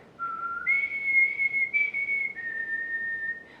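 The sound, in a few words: whistled imitation of a distant bird call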